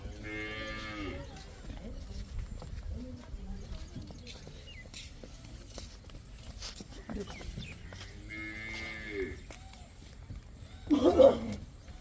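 Dairy cows offered for sale on a farm low out in two long, drawn-out moos, one at the start and another later. Farmyard background noise and some faint human voices fill the gaps between them.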